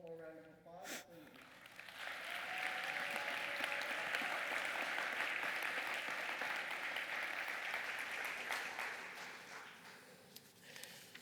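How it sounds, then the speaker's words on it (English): Audience applause at a Horizons Northwest conference session rises after a brief pause and holds steady as a broad, dense clapping wash for most of the clip before tapering off near the end. "One more round of applause"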